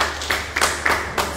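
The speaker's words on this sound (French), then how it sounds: "ils sont deux à applaudir" Two spectators clap sparsely at a padel match final in Lyon, about four separate near claps in a quiet space, uneven and hollow.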